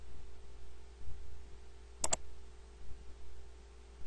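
Two quick computer mouse clicks close together, faint and isolated over a low steady hum, made while placing walls in Revit software.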